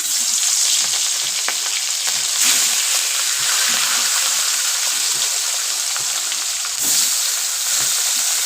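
Fish pieces dropped into hot oil set off a loud, steady sizzle and crackle of frying that runs the whole time, with a few brief flares of spitting oil.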